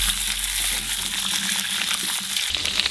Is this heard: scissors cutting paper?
no